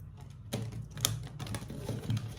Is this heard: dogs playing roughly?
no